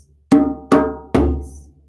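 A djembe hand drum struck three times in quick succession, deep bass tones with a booming low resonance and a short ring, close and fairly loud with no voices.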